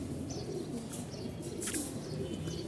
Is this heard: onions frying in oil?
no